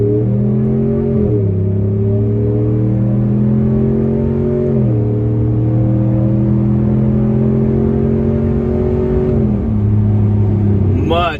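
Borla ATAK exhaust on a 5th-gen Ram 1500 with a Hemi V8, revved in three rising and falling pulls with a deep steady idle rumble between, loud and close, with a final sharp rev at the end.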